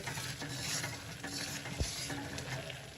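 Urad flour roasting over a gas flame for adadiya pak, a soft continuous sizzle with scraping stirring strokes and a single dull knock, close and quiet with no talking.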